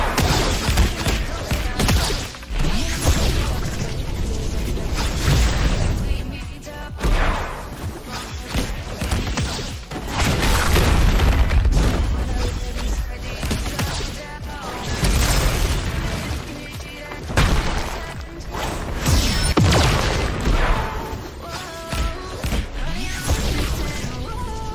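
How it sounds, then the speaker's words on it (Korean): Explosive hits in Roblox The Strongest Battlegrounds with the psychic Tatsumaki character, a rapid string of booms, thuds and crashing impacts rising and falling over game effects, with some talking underneath. "때리면은 이제 폭발하면서 데미지를 줍니다"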